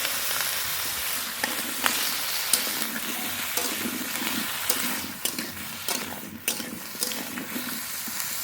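Chopped ash gourd frying in hot oil in a pan after a fish head, with salt and turmeric added, sizzling steadily and loudly throughout with a few sharper crackles and spatters near the end.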